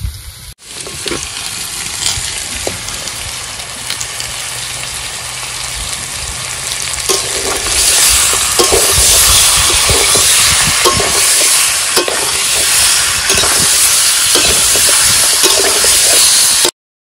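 Marinated pangas fish goes into hot oil in a pan at an outdoor picnic, setting off a loud, dense hiss and crackle that grows stronger and continues steadily until it cuts off abruptly.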